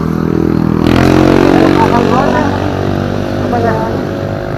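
A motorcycle engine runs loud and close with a steady humming drone that swells briefly and then eases, while people talk over it.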